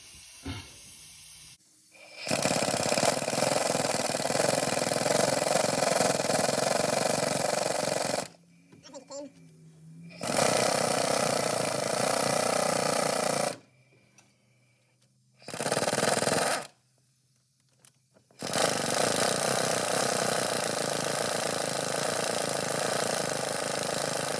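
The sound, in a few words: impact wrench on 1969 Buick Skylark cooling system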